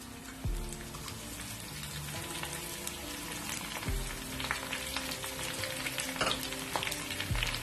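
Curry leaves sizzle and crackle in hot oil for a chana dal tempering, a steady loud frying hiss scattered with sharp pops and a few clinks of utensils.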